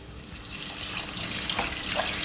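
Water poured into a pot of vegetable soup with corn and mushrooms, a steady close splashing stream that builds slightly in loudness over a couple of seconds, with no talking.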